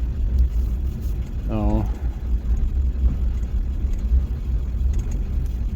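A 2000 Ford F350 with the 7.3 diesel drives along, a steady loud low drone of engine and road noise; a voice speaks briefly once near the start.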